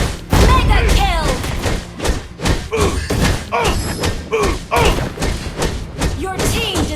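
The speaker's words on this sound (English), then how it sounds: "Your team destroyed the turret." Turret being destroyed in the mobile game Mobile Legends, a dense stream of thuds, slams and impact bursts layered with game effects and announcer-style voice lines throughout.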